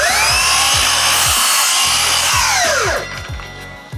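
A miter saw cuts a 30-degree angle through a four- or five-foot scrap board, producing a loud, close motor whine with rough cutting noise that then winds down and fades.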